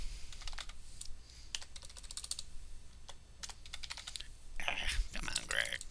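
Rapid bursts of key clicks on a computer keyboard, close and fairly quiet, come in uneven clusters with short pauses between them.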